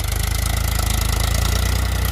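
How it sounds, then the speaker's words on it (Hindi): A Powertrac 439 Supermaxx tractor, 3-cylinder 2339 cc diesel engine, runs steadily under load while driving a tiller, a loud close continuous throbbing drone with no talk. "देखिए तो आर पी एम नहीं तोड़ता ट्रैक्टर बिल्कुल भी, देखिए, और बिल्कुल लागू टीलर चला रखा है।"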